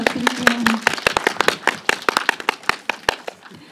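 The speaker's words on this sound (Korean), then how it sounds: "여러분 박수 한번 부탁드릴게요." Audience clapping for an actor's arrival at a Korean film screening Q&A, a burst of scattered hand claps that thins out over a few seconds, with a brief voice near the start.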